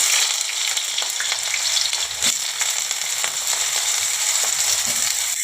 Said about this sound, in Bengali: আমি বেগুনগুলো আগে ভেজে নেব।